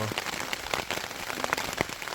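Rain pattering steadily on a camping tarp in a wilderness campsite, a dense close hiss of drops with scattered louder taps, no voices.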